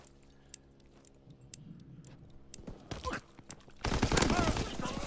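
Bursts of rapid gunfire in a WW2 video game, scattered shots building into loud, sustained automatic fire near the end, with players talking over it.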